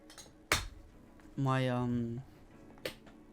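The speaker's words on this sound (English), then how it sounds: "That was my chair, by the way." An office chair creaks once in a long, tonal, whining groan, framed by a couple of sharp knocks, close and fairly loud in a quiet room.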